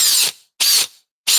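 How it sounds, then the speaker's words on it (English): Loud, close ratcheting of a cordless drill chuck on a Milwaukee M12 or DeWalt Xtreme, three harsh grinding bursts in a steady rhythm with short silences between them. "Oh God, this cuck sounds awful."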